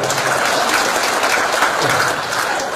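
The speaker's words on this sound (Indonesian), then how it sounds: "Makanya kalau yang boleh tepuk tangan buat beliau" A crowd at a stand-up comedy show applauds loudly and continuously, a thick wash of clapping heard up close with no pauses.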